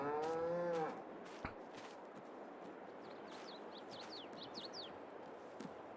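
Cattle in Farming Simulator 22 give one loud, drawn-out moo at the start, then fade into a steady farmyard ambience with faint bird chirps scattered through the rest.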